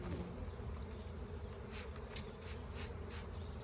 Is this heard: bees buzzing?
yes